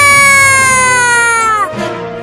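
A cartoon kitten gives one long, loud, tonal meow after falling, the cry held steady and then sliding downward before breaking off into a short, rougher tail.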